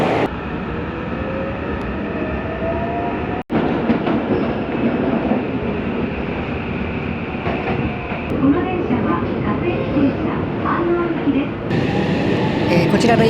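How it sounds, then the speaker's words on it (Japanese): A commuter train bound for Hanno rolls into a station platform near Tokyo with a steady rumble, squealing brakes and rattling wheels, while people talk and announcements sound nearby. "ホームに飯能行きの電車が入線してきましたので、こちらの電車に乗車したいと思います"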